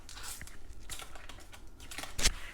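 Tarot cards are picked up and handled, giving soft, scattered papery flicks and rustles close by, ending in a sharper snap of cards.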